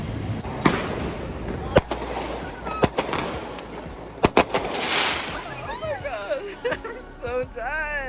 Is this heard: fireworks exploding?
yes